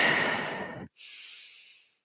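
One long, close breath is drawn in during a posture exercise class, a loud airy hiss that stops abruptly and is followed by a softer breath out that fades away.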